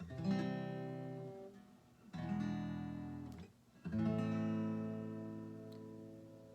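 Three sustained chords ring out one after another, an E seventh resolving to A, with short pauses between them.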